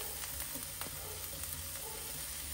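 Red capsicum and Malabar spinach greens fry in a pan for a garlic baby eel tapas dish, giving a soft, continuous sizzle and crackle heard alone at low volume.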